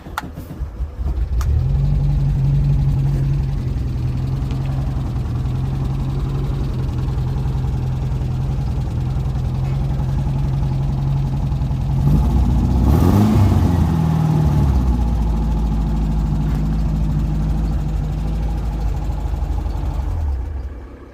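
A VW T4's engine idles steadily up close with its rear exhaust almost in mud, then revs briefly around the middle before settling back to a low, even idle that cuts off at the end.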